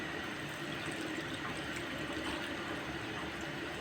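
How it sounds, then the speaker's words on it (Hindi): Half a bottle of water is poured into a cooking pot for mustard greens saag. It makes a steady, continuous splashing gush with no pauses, heard fairly quietly for a few seconds. "अब मैं इसमें डालूँगी पानी, ½ बॉटल।"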